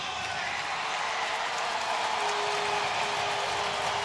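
A baseball stadium crowd of over 23,000 cheers in the bottom of the ninth, a broad, steady roar of distant voices and applause filling the afternoon air without letup.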